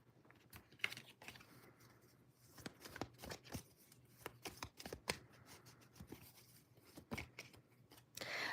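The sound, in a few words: shuffling tarot cards before pulling another card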